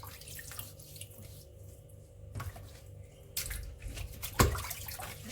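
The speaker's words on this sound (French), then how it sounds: "une fois que j'aurai tout bien frotté, je rince une dernière fois" Vegetables are rinsed under a running kitchen tap, a steady hiss of flowing water with shifting splashes that grow louder toward the end, close by and without talk.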